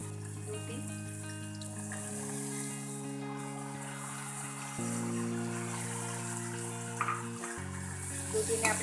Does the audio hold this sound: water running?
yes